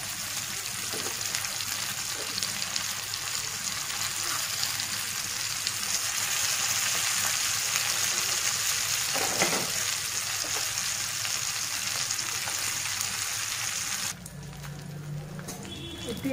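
Spicy fish frying in hot oil in a pan, a steady continuous sizzle with faint crackles, close and fairly loud throughout, quieting briefly near the end.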